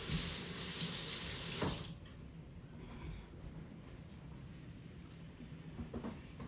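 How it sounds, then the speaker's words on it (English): Tap water runs hard into a kitchen sink while a knife is rinsed, a loud steady rush for under two seconds before it stops, leaving only quiet room tone with faint clatter. "I'm just going to rinse off my knife."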